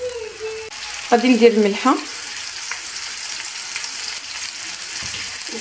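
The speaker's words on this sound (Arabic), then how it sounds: "غادي ندير زيت الزيتون باش نطيب الكفته ديالي" Minced kofta meat frying in olive oil in a skillet, a constant soft sizzle beneath a short stretch of a person talking.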